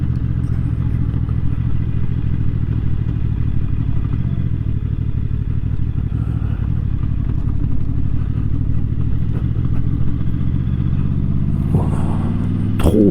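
A QJ SRV600 V4 four-cylinder custom motorcycle engine runs while riding, a steady low droning rumble close to the microphone, with a brief louder rev and clatter near the end.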